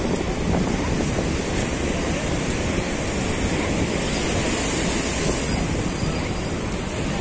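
Rough high sea surf roars continuously along the rocky Alexandria shoreline, loud and close, with heavy wind buffeting the microphone and no talking.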